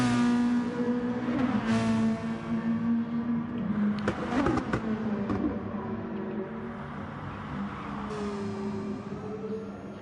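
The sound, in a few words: race car engine on board lap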